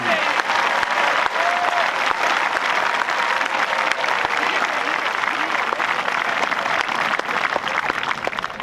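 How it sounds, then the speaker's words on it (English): Sustained, loud applause from a large crowd at a high school graduation, steady clapping filling the whole stretch with no pauses, a few louder claps standing out. "Can we have a large round of applause for the class of 2015."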